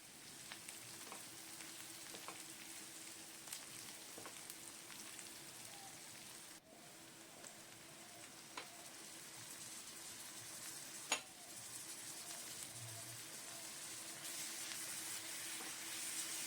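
Chicken with ginger paste, garlic paste and chopped onion frying for Bengali chicken kasa, a faint, steady sizzle with occasional soft clicks of stirring, quiet throughout and no voices.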